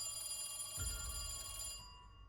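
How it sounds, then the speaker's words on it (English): An old wall-mounted telephone rings in the Call of Cthulhu game, a faint, steady bell tone heard alone at low volume before tapering off. "you see a old telephone mounted against the wall. And it continues to ring."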